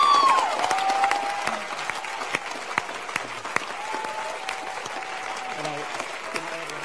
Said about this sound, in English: So I think all of us deserve a good applause